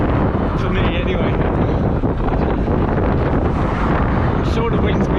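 Steady wind rushes across flat, open Fenland fen country near the sea, a constant loud broadband buffeting of the microphone throughout with no pauses.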